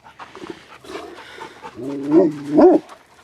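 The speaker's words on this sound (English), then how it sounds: "barking at the neighbors" A dog barks and whines a few times at moderate distance, building to louder yips near the end, with quiet background noise.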